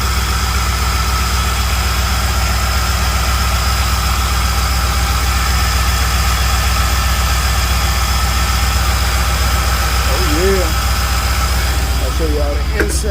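A 1999 OBS truck with an LS engine swap idles steadily and loudly up close, its low, even rumble unbroken throughout, with faint voices briefly audible near the end.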